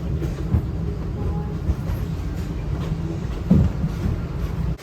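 Expedition Everest roller coaster train at Animal Kingdom rolling along its track, a continuous low rumble with faint rhythmic clacks and a thump near the end, close and steady.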